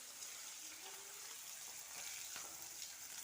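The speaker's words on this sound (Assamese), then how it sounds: "এয়া মাছ ফ্ৰাই কৰি আছোঁ" Fish frying in a pan in a home kitchen, a quiet, steady sizzle with faint crackles that runs alone throughout.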